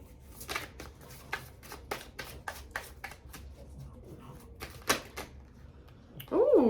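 Tarot cards pulled and shuffled in a run of crisp, rapid riffling flicks and slaps, close and moderately loud, with a brief louder rustle near the end.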